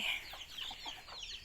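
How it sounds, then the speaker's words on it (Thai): Home-raised backyard chickens clucking softly, a brief run of quiet, close calls with no talking. "ไก่"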